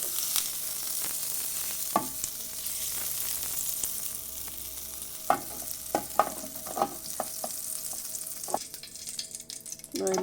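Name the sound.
butter melting and sizzling in frying pan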